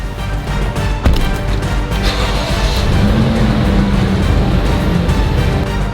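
A car on a long road journey, its engine and tyre rumble droning steadily and close, with a sharp knock early on and a brief rising tone midway.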